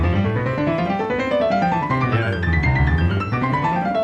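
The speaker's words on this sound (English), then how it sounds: "A lot of people will just rattle through scales." Rapid piano scales run up and down continuously, notes rippling quickly across the keyboard at a steady, fairly loud level with no pauses.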